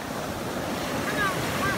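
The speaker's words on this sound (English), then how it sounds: "A little bit of ocean time with Maddie." Ocean surf rolls onto a beach at Myrtle Beach on a rougher day, a continuous loud wash of waves mixed with gusty wind noise on the microphone, with faint voices in the background.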